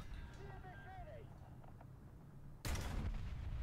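A tank cannon fires in the War Thunder video game with one loud, abrupt blast followed by a sustained roar, after a quieter stretch of engine rumble and faint whistling tones.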